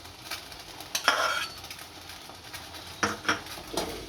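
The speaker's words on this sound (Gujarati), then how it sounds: "આમ ભેળવી નાખીશું આમાં" A spoon stirs roasted dry fruits into bread halwa in a pan, a few scraping and clinking strokes over a faint sizzle, with quiet gaps between them.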